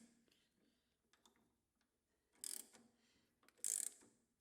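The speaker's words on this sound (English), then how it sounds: "So I've got this ratcheting tap wrench here, which people always ask about." A ratcheting tap wrench turns a thread-cutting die in a workshop with a lathe, giving faint close ratchet clicks and ticks, then two louder bursts of clicking.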